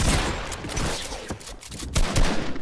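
Rapid continuous gunfire in a video game, loud and dense, with shots running together in a steady fusillade.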